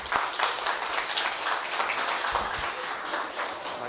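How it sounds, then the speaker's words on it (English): Audience applause for a keynote speaker being welcomed on stage at a decentralized fintech conference, a steady wash of clapping across the room that holds at an even level throughout. "A huge round of applause and welcome him on stage."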